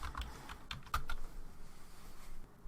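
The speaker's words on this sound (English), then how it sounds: "I need to type in my administrator password." Quiet keystrokes on a computer keyboard as a password is entered, a short run of soft taps with a brief cluster in the middle, fairly faint with no talking.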